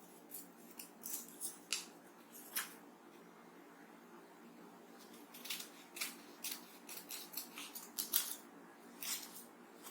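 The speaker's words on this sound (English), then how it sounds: "I am going to cut them from the original square." Scissors snip through paper, cutting a square into separate geometric tangram pieces for a school math activity; a series of short, crisp, close cuts come in bursts with brief pauses between them, and no one speaks.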